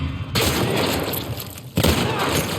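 A shotgun blasts twice in The Last of Us Part 1 game, each shot a loud, heavy boom that sustains into a dense rumbling tail, the second coming about one and a half seconds after the first.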